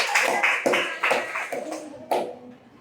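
A class of students claps hands in a rhythmic pattern of sharp bursts, a few quick claps at a time, ending with a single loud clap.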